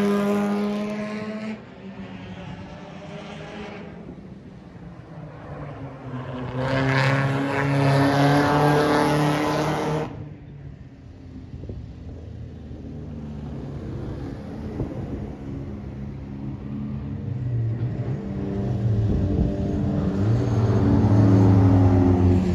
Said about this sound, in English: After that, the buzz cars came out to play.